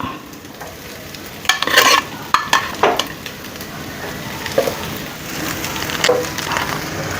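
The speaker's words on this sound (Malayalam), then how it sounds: "ഇതെല്ലാം കൂടെ ഒന്ന് മിക്സ് ചെയ്യുക നമുക്ക് എല്ലാം കൂടെ ഒന്നതുപോലെ വരട്ടിയിട്ട്" Egg fried rice is stir-fried in a pan: a soft continuous sizzle is broken by sharp scraping and clattering stirs in irregular bursts, close and fairly loud.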